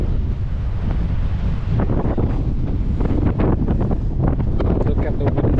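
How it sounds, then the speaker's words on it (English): Strong north wind roars steadily across a Metairie lake bank during a fishing trip, a constant buffeting rush on the microphone with faint water sounds beneath. "The wind is really strong."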